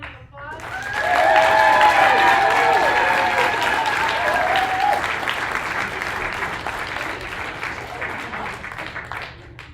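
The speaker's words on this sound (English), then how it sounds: "So congratulations, huge round of applause." An audience at a National Civics Bee in Buena Vista, Colorado breaks into a sustained round of applause, loud clapping that peaks early and slowly tapers, with a voice speaking over the start.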